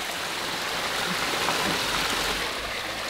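Water pours off a Mahindra Thar 4x4 in a continuous, close, rushing splash like a small waterfall, steady and broadband with no voices over it.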